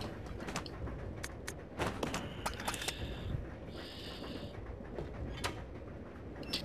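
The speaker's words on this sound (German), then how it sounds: "Die Tür wurde aufgeschlossen." In the Resident Evil Zero video game, a door is unlocked with a sequence of mechanical clicks, creaks and ratcheting lock sounds. Two short metallic grinding bursts follow over a low murky ambient background, with no talking.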